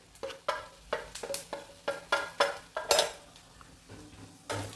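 A metal spoon scrapes and taps against a pan while stirring spices into roasted vada pav masala, a dozen or so sharp, close clinks in an uneven rhythm over a faint sizzle.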